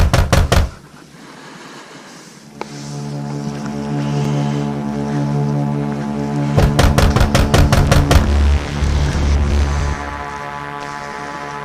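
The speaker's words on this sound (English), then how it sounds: "I think I hear someone knocking on my door now." Knocking on a home door, heard as two bursts of rapid, loud repeated raps, one at the start and a longer series near the middle, over a steady hum and drone.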